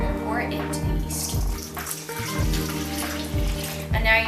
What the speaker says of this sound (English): And then we're going to pour it into the yeast.